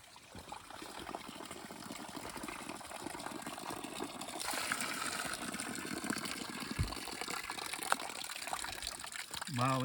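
Water trickling and splashing steadily at a trail spring along the Appalachian Trail near Mooney Gap, a continuous close flow with faint voices.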